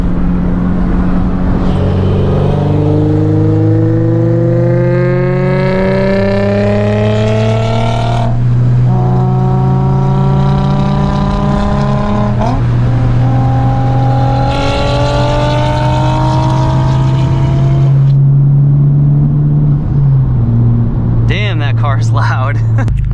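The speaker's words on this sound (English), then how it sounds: "Let's get an exhaust clip for Sergio." A sports car, either a 2021 Honda Civic Type R or a Nissan 350Z NISMO, accelerates hard through several gear shifts, its loud exhaust climbing in pitch, with a voice briefly under the engine.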